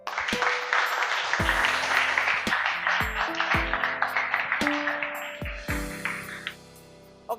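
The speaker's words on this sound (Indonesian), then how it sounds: "Dan tepuk tangan dulu untuk Avandi." Classroom applause during a physical education lesson on volleyball technique, a steady burst of clapping from a group of students lasting several seconds, with sharp percussive hits and tonal pings mixed in before it tapers off.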